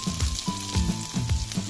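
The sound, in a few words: greens frying in oil with onion and garlic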